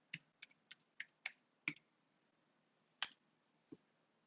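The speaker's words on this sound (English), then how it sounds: "In order to see what nodes are available for computation, you can type command sinfo2." A computer keyboard clicks as a command is typed, about eight to ten crisp, separate keystrokes, quick at first, then sparser with short gaps, faint and close in an otherwise quiet room.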